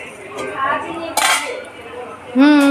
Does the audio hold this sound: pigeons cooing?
no